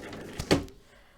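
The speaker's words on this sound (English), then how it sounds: "Pop you in my drawer." A desk drawer at a papercraft workbench is pushed shut with a single short, dull knock and a brief rattle. It is fairly close and quiet, and the room falls still afterward.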